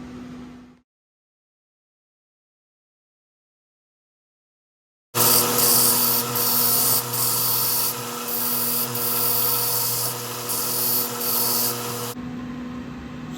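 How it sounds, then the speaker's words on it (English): A Japanese kaiken knife blade being ground to profile: a loud, harsh, continuous grinding rasp that starts abruptly after a near-silent stretch, with brief pulses in intensity, then cuts off. "grind in the shoulders, grind in the tang, and grind in the profile"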